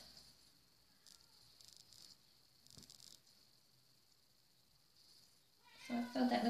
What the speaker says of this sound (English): that's my crazy Siamese cat, Felicity.